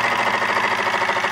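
A small model engine heated by an alcohol lamp runs with a steady, rapid, rhythmic chugging pulse, loud and close, with no voices.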